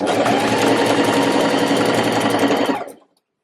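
A sewing machine stitches fabric for a reversible waistcoat, a fast, even mechanical whirring rattle heard close and loud for nearly three seconds before stopping abruptly into silence, with no talking.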